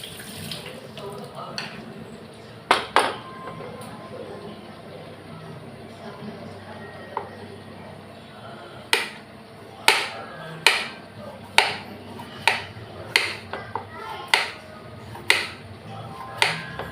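A knife chops potatoes into small pieces on a board at home while cooking lunch, the first scattered cuts giving way to a steady run of sharp, evenly spaced taps over faint running-water noise and a quiet background voice.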